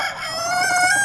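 A rooster crows in one long, loud, close call on a small farm keeping about fifty hens, the drawn-out tone rising and holding for a second.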